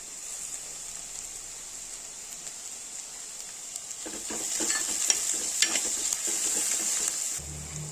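Slit green chillies hit a pan of browning onions, a quiet background hiss rising into a busier sizzle with crackling pops for the last few seconds, near and without speech.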